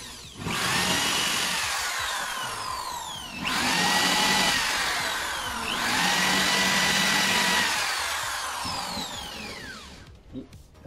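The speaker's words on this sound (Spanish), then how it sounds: "vamos a subir nuestro taladro." A power drill whines loudly in three long runs, slowing and revving down between bursts, up close with no talking.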